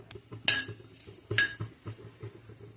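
Metal spatula clinks and scrapes in a dry pan as nigella seeds (kalo jeere) and dried chilli roast without oil, with two sharper clatters among softer rhythmic stirring knocks.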